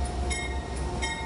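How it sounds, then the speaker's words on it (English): An Amtrak Ethan Allen Express train departs Burlington with a steady, close rumble of rolling rail cars, laced with faint high metallic squeal tones that come and go. "Friday morning, Burlington sent off its first train."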